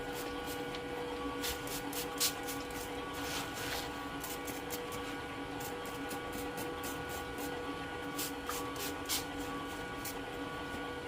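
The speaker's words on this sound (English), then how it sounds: "Grab our water bottle, spray it right on the electrical panel." A water spray bottle spritzes onto an electrical panel beside coffee equipment, giving a long run of quick, short hissing bursts over a steady mechanical hum.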